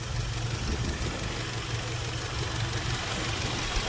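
Steady low engine rumble at idle, even and continuous, with faint broadband noise over it and no voices.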